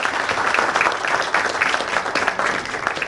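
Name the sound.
audience applause for conference organizers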